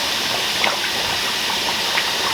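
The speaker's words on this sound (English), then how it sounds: "The pork leg has been frying for about an hour now, and I just added the pork bone in there" Pork leg and bone fry in a pot for carnitas, giving a steady dense sizzling bubble with faint pops throughout, close and moderately loud, no talking.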